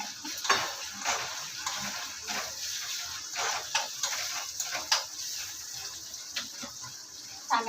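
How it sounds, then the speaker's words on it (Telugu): Tomatoes drop into a frying pan on a home kitchen stove, with soft sizzling and scattered light clatters and stirring taps running unevenly under a steady hiss. "నెక్స్ట్ అయితే టమాటోస్ అయితే వేస్తున్నాను."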